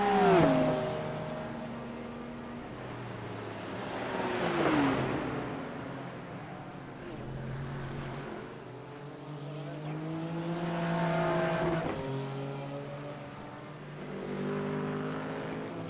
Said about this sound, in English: I love the sound of those cars